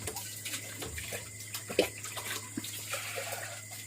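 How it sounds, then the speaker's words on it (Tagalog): Water runs steadily into a cooking pot at close range, a soft continuous flow with a low hum underneath. "Diretso na natin ito lagyan ng tubig."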